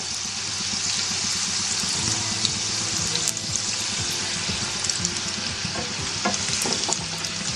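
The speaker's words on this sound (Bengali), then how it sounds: "এটা আমি লো ফ্লেমে ভাজছি" Chicken keema kachori fry in oil over a low flame, a dense continuous sizzle and bubbling crackle at close range, with occasional faint knocks of utensils and no speech.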